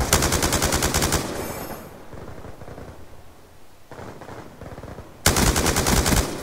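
Automatic gunfire in the Black Ops 2 Gun Game mode rattles in rapid, loud bursts at the start and again at the end, with quieter game sounds between.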